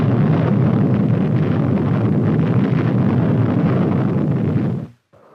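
An atomic artillery shell's nuclear explosion rumbles as a sustained, loud, wind-like roar that holds steady for several seconds, then cuts off abruptly into near silence.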